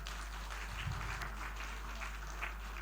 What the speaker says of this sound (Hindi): भाई के लिए ताली बजा दीजिए।